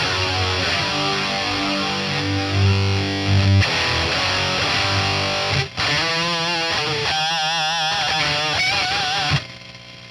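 An electric guitar plays through a Boss Katana MK2 amp with everything maxed, including the brown channel gain: thick, heavily distorted chords ring out, then shift to sustained wavering notes with vibrato before cutting off.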